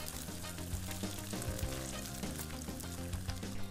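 Tail fat and chunky cut meat fry for Turkish saç kavurma, giving a steady, close, dense sizzle that holds through the whole stretch, with a few brief spatters and scraping stirs. No one speaks.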